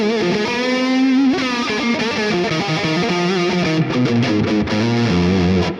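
A heavily distorted electric guitar on the neck pickup, run through a Quad Cortex modeler with plate reverb, plays a warm, rounded riff, loud and sustained, with chords and single notes blending into a thick, saturated tone.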